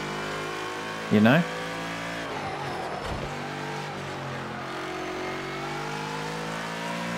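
A car in a racing game drives into corners with a steady engine drone under the speech, a short sharp revving burst near the start and a dip and rise in pitch soon after. Someone speaks briefly.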